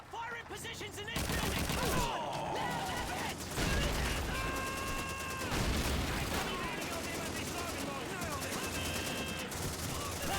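Gunfire in Call of Duty 2, a 2005 World War II shooter: a burst of loud, close rifle and machine-gun shots fills most of the clip, with explosions and battlefield noise behind it.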